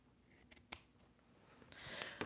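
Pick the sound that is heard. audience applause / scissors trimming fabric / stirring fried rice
scissors trimming fabric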